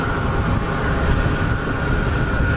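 Airliners taxiing at Geneva Airport, including a Norwegian Boeing, a constant heavy jet engine rumble and whine holding steady at a moderate distance with no voices over it.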